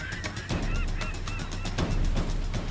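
Geese honk repeatedly near a fishing net on an island shoreline, a loud, dense chorus of overlapping calls close by, with no voices.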